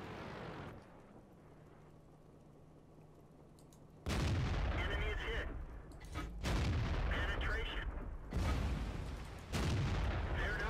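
Heavy tank cannon blasts in a World of Tanks battle, including a Dicker Max, with several loud booming shots and rumbling after a quieter opening, under occasional talking.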